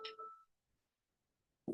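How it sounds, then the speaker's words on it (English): A mobile phone rings with a short electronic tone burst, followed by near-silence and then a second ring starting at the end, heard faintly during an at-home fitness workout class. "Phone ringing."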